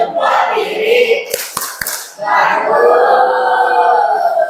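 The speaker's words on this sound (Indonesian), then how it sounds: "Berikan tepuk salut" A few quick, sharp handclaps from students in a primary-school classroom lesson on plant parts, a short patterned burst set between stretches of a teacher's talking.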